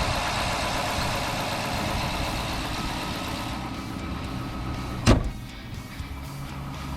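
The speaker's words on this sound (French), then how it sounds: "On va analyser le bruit du moteur durant ces 3 phases." A cold 5.7L V8 HEMI engine idles steadily just after starting, with an even, close mechanical hum and a single sharp click near the end.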